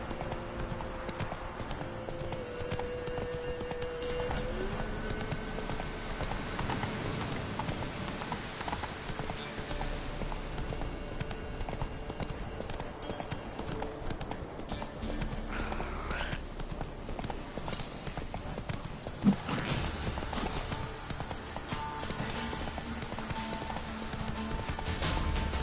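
Hooves of a horse clip-clop steadily at a walking pace in The Witcher 3 video game, a close regular rhythm under a soft ambient game soundscape, with one sharp click near the end.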